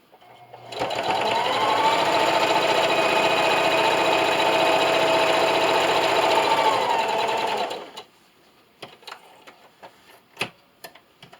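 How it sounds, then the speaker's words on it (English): A sewing machine stitches a straight line on a fabric roll-up silverware holder, a loud, steady, close whir for several seconds that stops abruptly, followed by light clicks and handling sounds. "Now continue to sew all the way down the line you just made."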